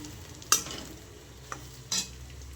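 Patra rolls being stirred with sesame seeds in a pan, with a soft sizzle under two or three distinct scraping stir strokes, close and fairly quiet.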